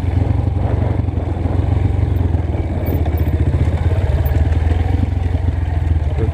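Dirt bike engine revving steadily and loudly on a dusty trail, a close, continuous rough drone with rattling clatter throughout and no pauses.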